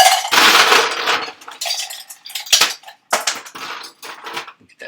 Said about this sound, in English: Next, I'm going to add in some ice to my copper mug here